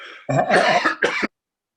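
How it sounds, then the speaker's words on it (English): A single rough, throaty cough with a brief second burst, close and loud, then silence. "I'm going to cough now."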